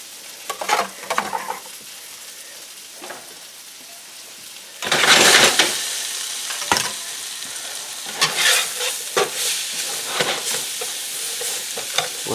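Onions frying in a pan while a beef and broccoli dish is cooked, giving a steady hiss with louder bursts of sizzle as food is stirred and tossed in, with no one talking.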